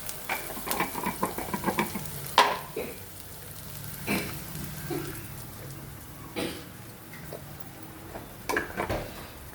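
Sliced onions frying with a pinch of salt in a pan give a steady sizzle, with scraping stirs and occasional clinks of the spoon against the pan, close and fairly loud.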